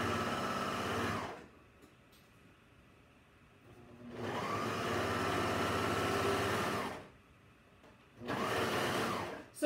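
A serger stitching a T-shirt seam runs in three bursts, a fast steady whirring hum that stops abruptly between runs, close and fairly loud with no talk.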